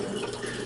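Spring water pouring in a steady, close, even trickle that lasts under a second.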